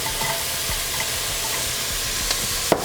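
Small onions frying in a pot for Tuscan soup give a continuous, even sizzle close up, with faint stirring taps and a brief sharp clink near the end.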